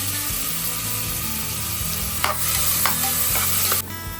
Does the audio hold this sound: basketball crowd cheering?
no